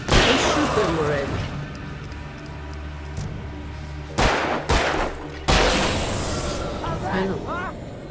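Alan Wake video game gunfire: several sharp shots crack out in a quick cluster midway, over continuous game ambience and voices.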